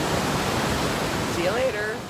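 A very loud waterfall at Chutes de Plaisance Falls in Plaisance, Quebec, roars as a dense, steady rush of white water, with a voice briefly audible over the torrent near the end.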